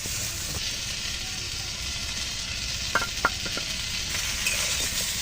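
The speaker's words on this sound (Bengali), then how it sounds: "তরকারি কিন্তু সুন্দর করে ভেজে নিলাম তরকারির সাথে" Ridge gourd and potato curry fries in a pan with a steady close sizzle, punctuated by a few light utensil clinks near the middle.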